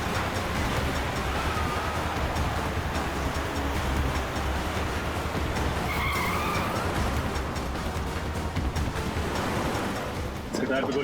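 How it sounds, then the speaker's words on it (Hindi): A car driven recklessly in a police chase, its tires skidding and engine roaring continuously at close range for several seconds, with voices talking over the noise. "इस तरह से गाड़ी चला रहा है, कहीं किसी को नुकसान ना पहुंचा दे।"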